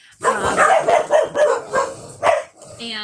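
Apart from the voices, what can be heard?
dogs barking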